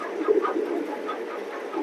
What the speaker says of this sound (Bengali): চলুন কবুতরগুলা দেখা যাক